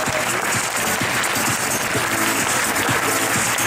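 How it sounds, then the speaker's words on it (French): A crowd applauds loudly at an outdoor race prize ceremony as the third-place award is handed out, with continuous dense clapping that stays strong for the whole stretch. "Avec à nouveau vos applaudissements"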